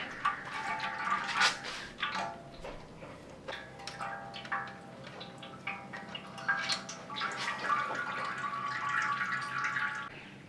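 Transmission fluid drips and trickles from a banjo bolt on a 1976 Mercedes-Benz 450SE W116 automatic transmission. The dripping is close and irregular and runs continuously, with no talk.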